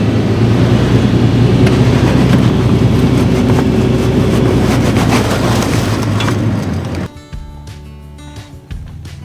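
A 4x4 in 4 low crawls out of sand on Exitrax traction boards, its engine a loud steady rumble for about seven seconds before dropping off abruptly to quieter idle and ticking.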